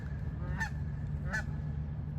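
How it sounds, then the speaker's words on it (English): Geese flying and fighting give two distinct honks about a second apart, moderately close, over a steady low outdoor rumble. "these geese are flying and fighting"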